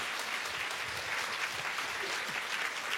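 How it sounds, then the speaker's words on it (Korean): An audience at a lecture applauding to welcome a professor onto the stage, continuous even clapping from many hands with no pauses. "박수로 맞아주십시오"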